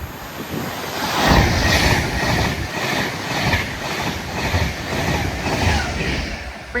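An Avanti West Coast passenger train from London Euston to Liverpool Lime Street rushes through Nuneaton on the West Coast Main Line, a loud close roar with rhythmic wheel clatter that swells and rolls throughout.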